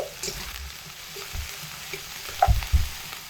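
Onion and garlic with green chilli paste sauté in a pan, a low sizzle under intermittent scrapes and stirs, with a couple of louder knocks of the spoon near the end.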